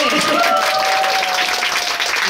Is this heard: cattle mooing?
no